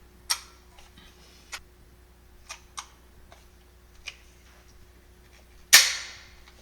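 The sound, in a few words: Daisy 717 air pistol firing training pellets at target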